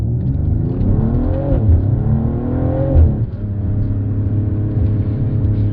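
A 2025 Mercedes-AMG GLE 53 pulling hard from a stop, engine note climbing through a gear, dipping briefly at a shift, then settling into a steady drone, loud and close from inside the cabin.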